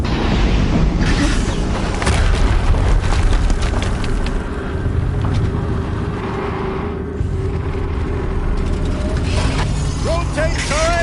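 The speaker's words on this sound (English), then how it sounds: "Another explosion." Explosions in the video game Horizon, dense and loud rumbling booms with crackling debris over a constant heavy mix of game sound, with voices talking over it.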